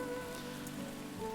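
Steady rain pattering on surfaces in the Hundred Days winemaking simulator game, a soft continuous hiss without breaks or voices.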